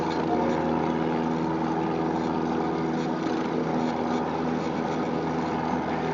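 Distant propeller plane droning steadily near an airport, a faint continuous engine hum with no distinct events and no talk over it.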